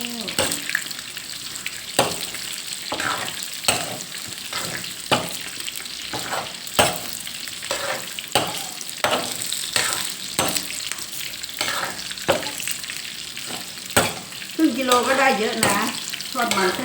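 Thai fish cakes made from king mackerel deep-frying in hot oil: a constant loud sizzle and bubbling, broken by regular clatters of stirring and scooping in the wok, close by.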